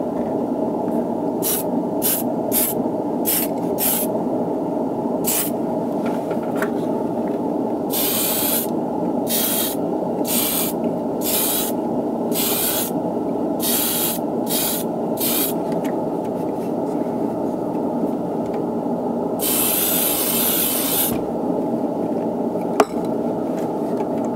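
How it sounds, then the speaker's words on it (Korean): A spray paint can coats a Gundam plastic model kit in a series of short hissing bursts, some quick and some longer, with one extended spray near the end, all over a steady ventilation fan hum. "스프레이는 공기를 빨아들이는 환기구 쪽으로 해서 뿌려주시면 좋겠습니다."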